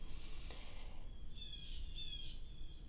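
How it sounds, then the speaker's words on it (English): A group of crows cawing outdoors, a few distant harsh calls spaced out over a few seconds against a faint background hiss. "There's my crows. There's a pack of them now."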